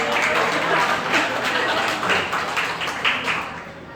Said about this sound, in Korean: 같이 박수 치면서 우리가 이 정도야.